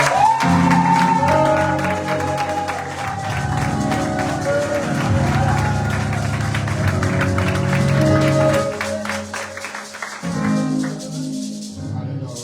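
A church congregation applauds and cheers continuously in praise of the Lord, loud and dense clapping with shouts, while music or voices run underneath throughout.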